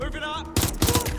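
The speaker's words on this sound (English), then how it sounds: "Incoming fire. They're shooting!" Gunfire in the video game Watch Dogs Legion: a burst of rapid shots erupts midway and continues loudly, mixed with game character voices talking.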